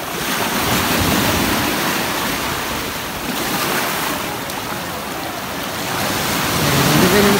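Surf at Cabongaoan Beach in Burgos, Pangasinan, where waves wash over a rocky, coral-lined shore in a steady, loud roar, mixed with gusty wind buffeting the microphone throughout.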